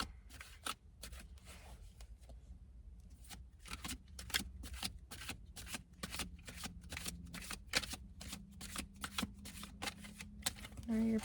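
Tarot cards are shuffled by hand in a rapid series of crisp riffling snaps and flicks, close and quiet, continuing steadily for about eleven seconds with no talk over it.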